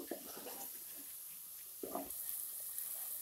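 Sprouts for misal pav stir and sizzle faintly in hot oil in a pan, with a soft steady hiss broken by two brief scraping stirs.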